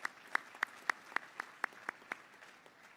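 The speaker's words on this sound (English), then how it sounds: "So a round of applause to all the talent that's in this room tonight." A few people clap in a steady, sparse rhythm at an awards dinner, about ten distinct claps that fade out, fairly quiet, with no talking.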